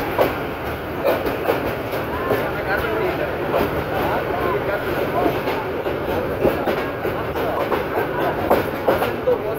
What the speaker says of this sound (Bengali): কর্ণফুলি কমিউটার ট্রেনটি ভৈরব বাজার জংশন ছেড়ে যাচ্ছে